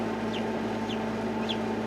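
Newly hatched baby chicks give three faint, brief peeps spaced about half a second apart over a steady low hum.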